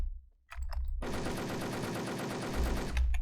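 A new weapon fires in the online shooter Wolfteam, one short shot followed by a sustained, loud burst of rapid automatic gunfire lasting about two seconds.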